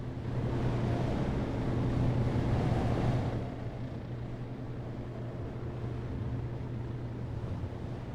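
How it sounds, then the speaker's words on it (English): A hydrofoil boat's engine in the video game 80 Days roars steadily with a deep low hum and broad rushing noise, loudest for the first three seconds, then settling into a slightly quieter continuous drone. "The ship roared into life, and then rose up 2 feet into the air above the surface of the waves."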